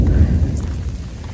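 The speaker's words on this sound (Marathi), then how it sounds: "पाऊस खूपच वाढलाय" Heavy rain pours down on a tree-lined hill walk at Vetal Tekdi near the ARAI hills, a dense, loud, continuous roar close to the listener, with no talk over it.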